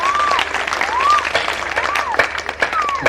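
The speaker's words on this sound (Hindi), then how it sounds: "थोड़ा तालियां बजा करके हमें निर्देश दीजिए कि हम कविता पाठ शुरू करें।" Audience applause at a poetry reading, a dense wash of clapping from a crowd, loud and continuous, with a faint tonal whistle-like sweep rising and falling over it.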